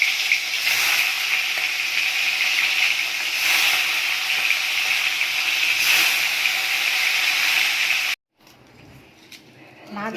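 Fish frying in hot oil in a wok for a curry, giving a loud, steady sizzle that runs unbroken, then cuts off abruptly near the end to a quieter background.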